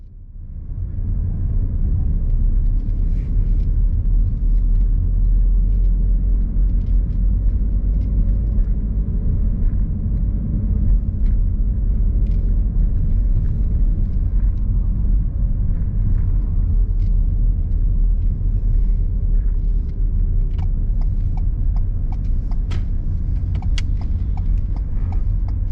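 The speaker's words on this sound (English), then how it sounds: "Keep the car running, please." Car engine idling while pulled up at the roadside during a mock driving test in Hendon, a steady low rumble that holds constant throughout, with a few faint clicks and taps near the end and no talking.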